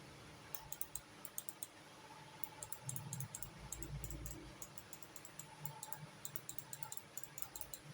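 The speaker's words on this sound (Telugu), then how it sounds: "ఇక్కడ మీకు క్లిక్స్ సౌండ్ వినిపిస్తుంది కదా" Faint, irregular runs of small clicks from a cheap basic office mouse with fairly stiff buttons, pressed repeatedly in a quiet room with no talk.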